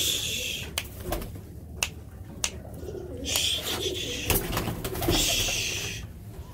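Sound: pet pigeons cooing

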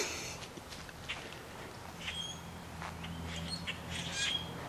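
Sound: flock of blackbirds squawking in a tree

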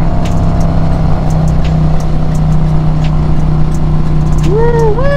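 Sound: Harley-Davidson motorcycle with Trask power plate accelerating

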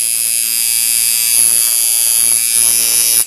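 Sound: tattoo machine with coils running

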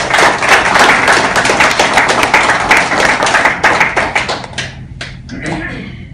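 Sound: staff applause at a farewell

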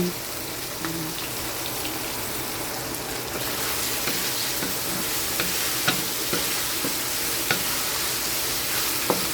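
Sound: sautéing shrimp paste (alamang) with tomatoes

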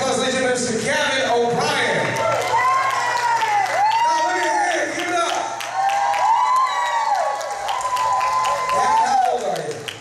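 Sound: audience applause for the singer

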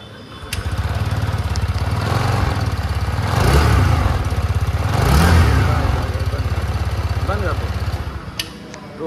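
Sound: TVS Jupiter 110cc scooter exhaust note running

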